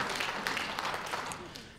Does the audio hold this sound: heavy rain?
no